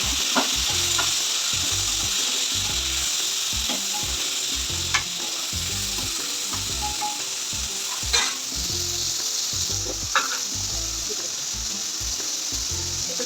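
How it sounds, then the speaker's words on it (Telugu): Cut beans with egg frying in a pan, a loud continuous sizzle under repeated rhythmic scraping strokes of stirring, close by with no speech. "ఇలా కొంచెం డీప్ ఫ్రై అయిన తర్వాత మనం కట్ చేసుకున్న బీన్స్ని"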